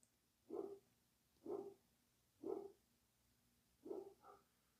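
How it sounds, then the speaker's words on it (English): A single dog barks outdoors near a house driveway, four evenly spaced, moderately distant barks with a softer fifth, against quiet background with no talk. "I hear Roxy barking"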